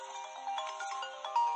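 Phone ringtone from an incoming call plays as a faint, repeating electronic melody of short bright tones, heard alone without talk.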